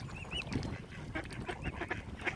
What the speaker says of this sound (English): there's one of them wee tiny ducks